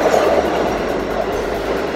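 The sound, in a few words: train arriving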